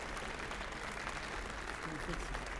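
Faint, steady applause from an audience at a cooking demonstration honoring the chef, a soft continuous wash of clapping from a distance with no other sounds standing out.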